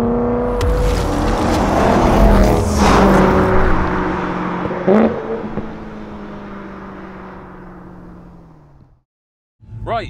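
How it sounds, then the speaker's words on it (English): A BMW M3 bought at a UK car auction roars by under acceleration, loud and close, then fades as it pulls away before a brief pause and a fresh rise of noise. "Here we are in the M3. We did win it, we have got it, I am driving it."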